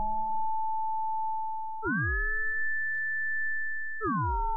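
Bitwig ring modulator output: a steady sine-like tone that abruptly jumps in pitch, with swooping chirps gliding up and down at each jump, heard alone and moderately loud.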